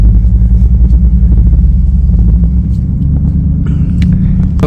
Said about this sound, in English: we're gonna do a little bit of a race between the Familia and this Roush